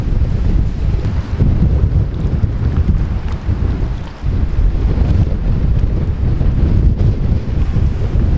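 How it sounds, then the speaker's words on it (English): Extremely strong wind at a cove on a Nova Scotia cruise, heard from a ship, roars as a loud, continuous buffeting rumble against the microphone, with no voices. "It is extremely windy here."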